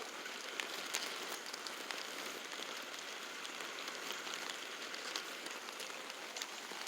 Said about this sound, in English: it has started to really pour down rain